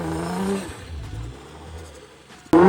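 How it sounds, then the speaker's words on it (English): An 800 hp Nissan R35 GTR drifting in snow: the engine revs briefly and fades into a low, faint whir, then snaps back suddenly loud and high near the end. "I was really drifting the GTR right now."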